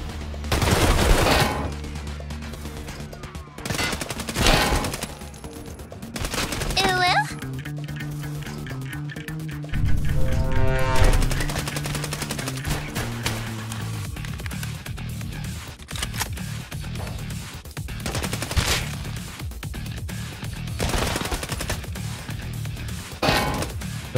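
Sustained automatic machine-gun bursts in the shooter game Escape from Tarkov, loud and close, interleaved with other gunfire and sharp impact or mechanical clicks across the whole stretch, with no talk.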